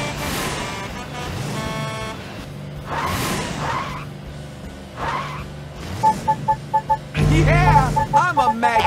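Engine revving and tire squeals from a monster machine in a Blaze and the Monster Machines game, with several loud surges and a spoken voice, ending in a heavy roaring burst of motor noise.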